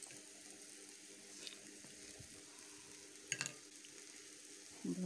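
Egg mixture for egg masala being stirred in a pan, giving a quiet continuous sizzle with soft scraping, a brief clink of the utensil midway and a louder scrape at the end, with no talk.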